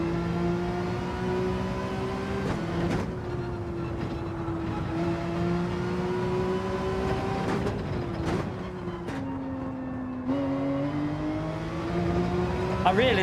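A Porsche GR.3 race car engine in Gran Turismo 7 drones steadily near and loud, its pitch climbing and dropping sharply through several gear changes as it accelerates and lifts around the track.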